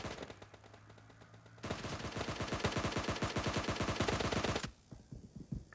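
Rapid automatic gunfire in the shooter game PUBG Lite rattles in a tight burst of about three seconds, with scattered single shots and quieter game noise before and after.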